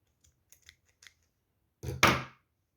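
Scissors cutting knitting yarn: a few faint ticks and handling taps, then one crisp, close snip near the end.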